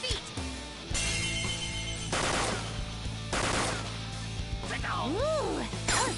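Bursts of rapid gunfire in the Persona video game, several loud, harsh volleys following one another with background game music and a voice briefly heard between them.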